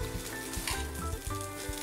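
Curry leaves sizzle and crackle in a hot pan, a dense steady frying hiss with sharp pops scattered through, close and alone with no talking.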